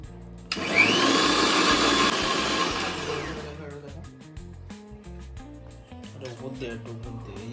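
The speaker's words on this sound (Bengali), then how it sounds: "এটাকে ব্লেন্ডারে মিক্সি করে নেবো" A blender grinds spice paste for chicken kosha in a loud, dense whirring roar that runs for about three seconds and then cuts off, followed by quieter kitchen sounds and a voice.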